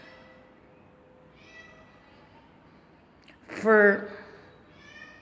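A single pet cat gives one short, clear meow close by, rising out of quiet room noise with faint speech around it.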